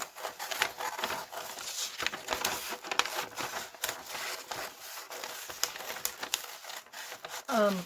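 Scissors roughly cutting quilt fabric around a traced template, making dry crinkly snips and rustling at close range in an irregular rhythm, with occasional talking.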